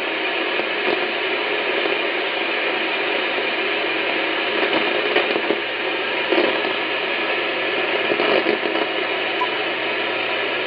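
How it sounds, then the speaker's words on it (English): Thunderstorm static crashes pour through an Icom IC-9700 radio receiver with the noise blanker switched off: a dense, continuous hiss broken by irregular crackling pops and bursts. No voices are heard. "Listen to them static crashes."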